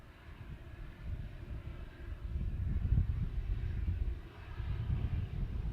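A Boeing 737-700 jet airliner passes at a distance, a low, rumbling engine roar that slowly swells and lingers. It is moderately faint and heard alone, with no talk.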